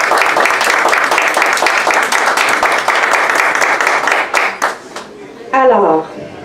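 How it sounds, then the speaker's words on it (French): An audience bursts into sustained applause for Quebec French teachers at a Laval anniversary poetry event, dense clapping that thins and fades out, followed by a voice speaking. "Une petite main d'applaudissement pour tous les professeurs de français du Québec"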